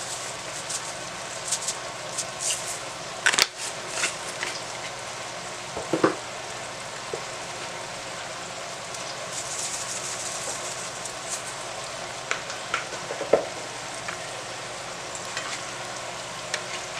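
Garlic, salt, pepper and chicken bouillon sizzle in a pan, a steady frying hiss throughout with a few clanks and stirring knocks scattered across it.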